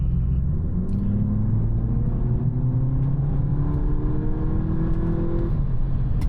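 A VW Polo GTI 2.0T hot hatch drives along, its engine droning steadily from inside the cabin with rising whirring tones as it accelerates, over continuous road rumble.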